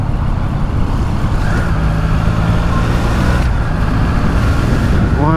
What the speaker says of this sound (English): Why is there so much traffic here at this time of day?